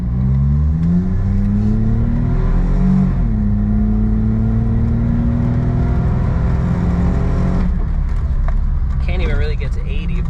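Suzuki Jimny pulling away hard from a standstill, engine note climbing steadily through a gear change, then easing off near the end, loud inside the cabin with voices over it.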